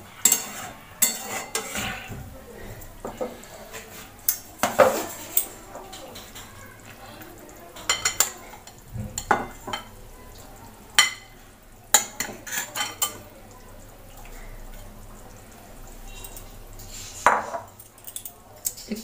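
Eggplant pieces are tipped into a pan of boiled beans and potatoes and stirred, bringing scattered clanks and scrapes of utensil on pan over a low background, with soft sizzling between the knocks.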